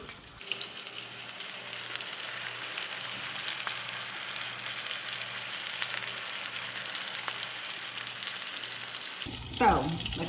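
Salisbury steak patties browning in a pan give a continuous, even hiss of sizzling fat, fairly close and unbroken, until a short, different rustling noise cuts in at the very end.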